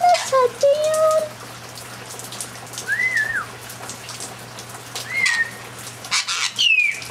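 Parrots playing on a rainy day give several short squawks and whistled calls, close by and moderately loud, over steady rain patter while a person talks between them.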